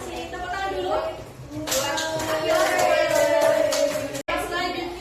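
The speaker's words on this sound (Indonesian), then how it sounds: "Tepuk tangan dulu." Classroom applause from students in an Indonesian class, a dense burst of hand claps starting around the second mark and continuing steadily to the end, with children's voices mixed in.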